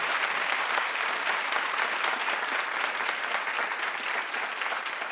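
A television talk show studio audience claps in a dense, even burst that stays loud and continuous throughout, with no voices standing out.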